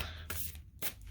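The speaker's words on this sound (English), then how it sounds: "All decks have been shuffled and pre-cut, and then I'd like to shuffle them again while you're in the room." Tarot card decks being shuffled by hand, two quick riffling bursts close by and fairly quiet, with no talking.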